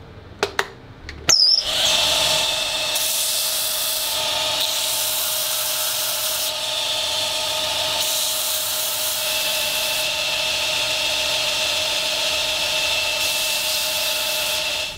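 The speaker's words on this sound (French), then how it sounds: "je vais le planer à la bande, qui est quasiment neuve, pour pas que ça brûle." A brief clatter, then a nearly new belt sander starts planing olive wood for a knife, running steadily with a loud, even whirring hiss that continues to the end.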